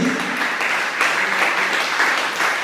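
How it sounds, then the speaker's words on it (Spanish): Congregation applauding during a church sermon, a dense, continuous roar of clapping that stays loud and even throughout, with no voices standing out. "¿Le puede dar un aplauso a Jesús usted?"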